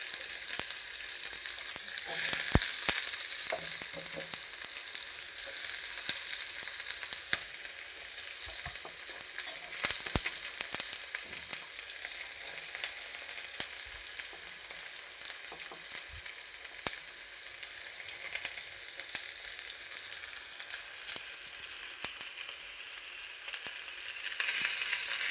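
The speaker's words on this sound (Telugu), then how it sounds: "ఇదిగో ఉల్లిపాయలు వేసుకుంటున్నామండి." Onions frying in a pan for a sweet mango curry give a continuous close hiss and crackle for about twenty-five seconds, with scattered pops and stirring clicks and no talk over it.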